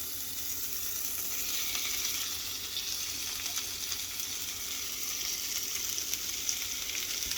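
Onion chunks frying in a pan for homemade hash give a continuous, even sizzle at moderate level, with light stirring scrapes mixed in and no talking.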